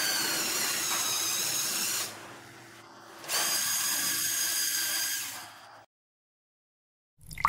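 High whirring whine of a LEGO Technic lifting machine's motor running, steady for about two seconds, a brief pause, then a longer run before stopping into silence.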